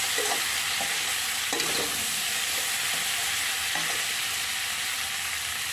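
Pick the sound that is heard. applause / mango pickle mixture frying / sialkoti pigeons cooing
mango pickle mixture frying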